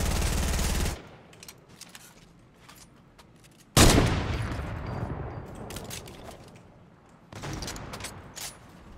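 Bursts of Fortnite gunfire come in three loud clusters, a sharp rattling volley at the start, another heavy burst near the middle and a final one near the end, with quieter scattered shots between.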